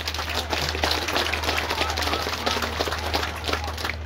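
An audience claps at a church building inauguration in Mamberamo Tengah, a steady dense patter of hands over a low constant hum, with voices mixed in.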